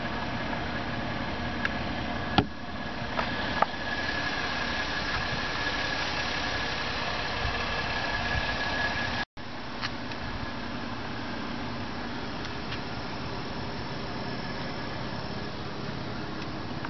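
A 2009 Ford Escape XLT sits idling, its engine giving a steady, even hum with no talk over it. A couple of brief clicks break in early, and the sound drops out for a moment near the middle.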